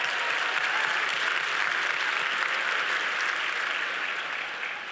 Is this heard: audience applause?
yes